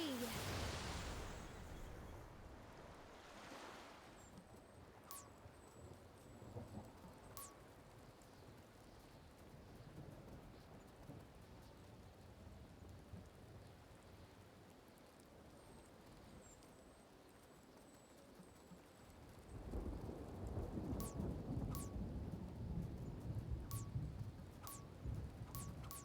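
A magic thunderstorm in the video game Wylde Flowers: steady rain hisses throughout, a low rumble of thunder opens, and the downpour swells heavier near the end, with sparkly chime effects scattered over it.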